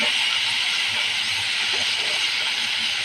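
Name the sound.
spices sizzling while frying in pan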